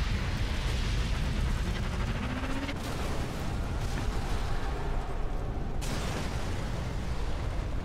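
An explosion roars through the video game Sniper Elite III after a gas tank is destroyed, with a loud, sustained rumbling blast and debris noise that shifts abruptly a couple of times.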